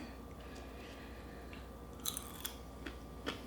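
Toasted pumpkin seeds crunched between the teeth, a few sharp cracking bites near the mic, spaced out toward the end over a low steady background hum.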